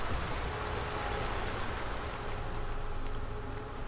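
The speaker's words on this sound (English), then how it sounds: "Look at this rain." Steady, dense rain falls continuously in the video game Saw II: Flesh and Blood, a constant hiss with no voices.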